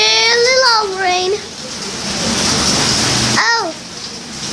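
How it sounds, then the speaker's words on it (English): Steady rain falling outdoors hisses loudly and continuously, while a voice speaks excitedly over it at the start and again near the end. "And I really love rain."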